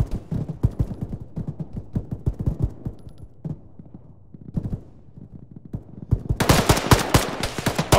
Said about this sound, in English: They keep shooting me.